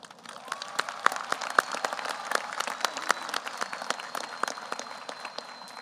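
Graduates and families clapping in a round of applause at the 2022 Hutto High School graduation, a moderate crowd with distinct sharp claps near the front over a continuous patter, holding steady for several seconds.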